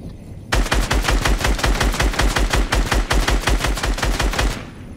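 Rapid automatic gunfire in Fortnite, a loud, sustained burst of evenly spaced shots lasting about four seconds before stopping abruptly.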